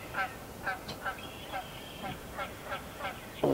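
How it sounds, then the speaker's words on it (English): A goose honks repeatedly in a regular series of nasal calls, about eight honks spaced evenly, heard at moderate distance outdoors during a deer hunt. "Goose trying to steal the show back here."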